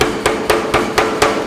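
A power hammer with drawing dies pounds hot steel while forging the pointed lugs of a replica Arjeplog carving axe, six loud, evenly spaced heavy blows in a steady rhythm, close up.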